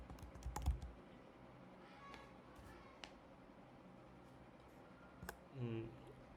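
Someone types code on a computer keyboard in soft, quick clusters of key clicks. The keys are close but quiet and sit under light background hiss, with a couple of louder taps near the end.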